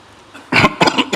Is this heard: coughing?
yes